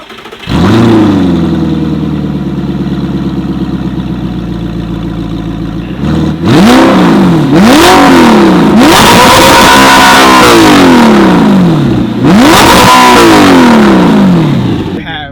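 An original Audi R8 sports car engine idles with a deep rumble, then revs hard several times in sharp rising and falling bursts, loud and close.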